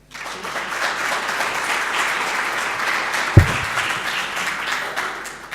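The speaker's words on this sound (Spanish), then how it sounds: "Un aplauso, por favor." An audience at an anniversary event of a public systems research centre in Chile applauds steadily for several seconds, with one sharp thump partway through.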